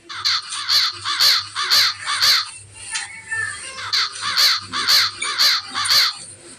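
A crow caws loudly and close in two bursts of rapid, harsh calls separated by a short pause, each caw sharp and repeated in quick rhythm.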